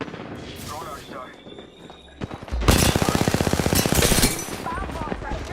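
Rapid automatic gunfire and explosions in a shooter video game, a loud rattling burst of fast regular shots after a quieter stretch, with a voice talking over the action.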